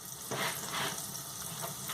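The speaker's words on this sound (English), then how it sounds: "just spread that out and let that sizzle away" Soft, steady sizzling of red pepper frying in oil, fairly quiet, with a few brief louder crackling bursts.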